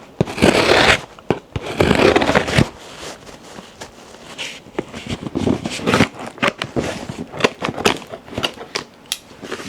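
Close, crisp scissors cutting and scraping through a packaging box: a couple of loud sustained bursts, then a run of quicker sharp snips and rustles.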